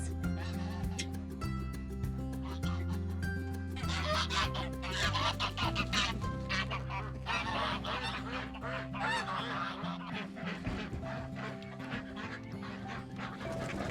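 A flock of geese honk continuously and noisily nearby at a farm, overlapping calls rising and falling, with chickens and ducks mixed in.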